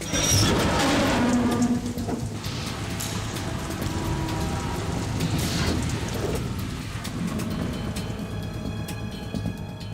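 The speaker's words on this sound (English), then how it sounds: "It stopped raining." Steady rain hisses with low rumbling thunder in a Metal Gear Solid 2 scene, a dense, continuous wash of storm noise with no talk.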